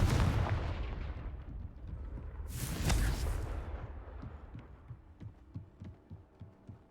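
The Confringo explosive spell goes off in the Hogwarts Legacy game as a deep rumbling boom with a bright burst of blast noise, followed by fading low thuds.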